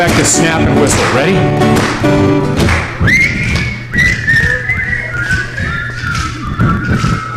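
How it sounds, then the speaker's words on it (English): A group whistles a wavering tune over rhythmic finger snaps, loud and close, after singing voices at the start. "go back to snap and whistle"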